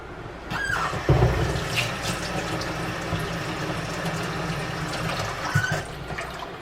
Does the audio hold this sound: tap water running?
yes